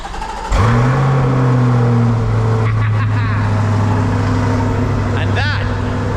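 A C8 Corvette's engine fires up with a loud, deep burst, then settles into a steady, rumbling idle as it warms, with a brief rev near the end.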